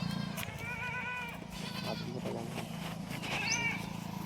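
Kathiawari goats at a livestock sale bleat repeatedly, several wavering cries at close to middle distance over a low background murmur.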